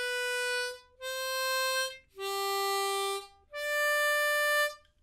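Four sustained harmonica notes on a C blues harp, alternating lip-pursed and tongue-blocked playing, each held about a second with brief gaps between, clear and close with no speech.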